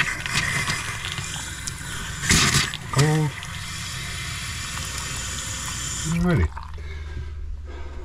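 Water runs steadily from the hot tap of an RV fifth-wheel camper sink during winterizing, a continuous close hiss with a couple of brief gurgling bursts before the flow cuts off near the end.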